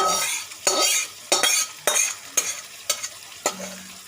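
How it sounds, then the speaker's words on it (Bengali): Pre-fried potatoes are stirred into a sizzling spiced masala for a Bengali chicken kofta dish, with about seven crisp spatula scrapes against the pan over a continuous loud fry, close up and with no voices. "দিয়ে দু মিনিট আমি আলুটা কষে নিলাম"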